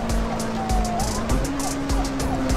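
Police car siren from an audio drama, wailing in a steady rising-and-falling sweep over a pulsing vehicle engine, loud and close throughout with no voices.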